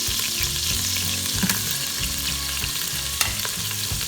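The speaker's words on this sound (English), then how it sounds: "Brown that onion well." Whole onion frying in a pot for a beef pot roast, a steady close sizzle of browning with occasional stirring clinks, no voices over it.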